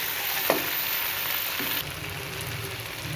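Beef and green chillies fry in a karahi with a dense, close hiss of sizzling oil, a single scrape of a spoon near the start, and the sizzle dropping slightly in loudness partway through.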